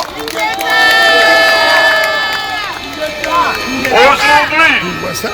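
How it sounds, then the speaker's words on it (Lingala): A crowd at a Congolese march in Brussels by the European Union cheers and applauds, with sustained horn or whistle tones and rising shouts forming a loud, continuous swell. "Si on peut applaudir M. Honoré Ngwanda Zamboko Atumba."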